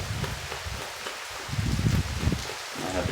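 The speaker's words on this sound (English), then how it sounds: "I don't mind the rain." Rain falls steadily outside an open door, a continuous wash of drops spattering on surfaces and leaves at even loudness throughout, with no voices.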